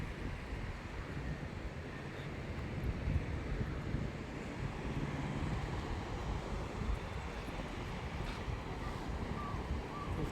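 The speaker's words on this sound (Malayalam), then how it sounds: "നല്ല കാറ്റ്" Wind buffets the microphone at a beach, a constant broadband rush blended with the distant roll of surf, steady and fairly loud throughout with no voices.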